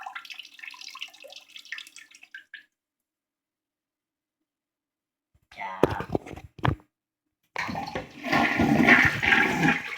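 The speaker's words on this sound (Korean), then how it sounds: "물을 내리겠습니다. 우리 집에 진짜 물을 내리겠습니다." Toilet flush in the Minecraft video game, a short watery burst followed after a pause by a louder, longer rushing swirl of draining water, heard close after a stretch of silence.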